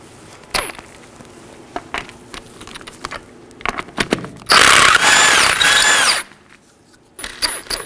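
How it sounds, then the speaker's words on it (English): A power tool spins off the 19mm lug nuts from a front wheel of a 2018-2024 Chevrolet Equinox 1.5L, with a loud sustained burst in the middle between scattered clicks and clanks of sockets and nuts being handled. "Let's remove our front wheel. There's 5 19mm lug nuts."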